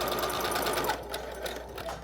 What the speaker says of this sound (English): let's get the sewing machine set up, besties. I'm about to test this out on this fabric